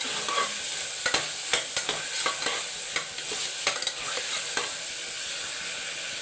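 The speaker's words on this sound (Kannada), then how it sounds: "ಕೊತ್ತಂಬರಿ ಹಾಕಿ ಮಿಕ್ಸ್ ಮಾಡ್ತೀನಿ" Coriander being stirred into vegetable pulav in a hot pan: steady sizzle under repeated scraping and clacking strokes of a spoon, close and moderately loud.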